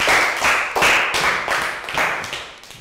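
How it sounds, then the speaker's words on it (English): Several rounds of brisk hand clapping in a Year 3 classroom, loud and close, in quick rhythmic bursts with no talking. "High five and a round of applause for Phil."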